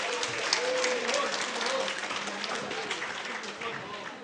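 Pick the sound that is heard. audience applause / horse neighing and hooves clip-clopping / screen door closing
audience applause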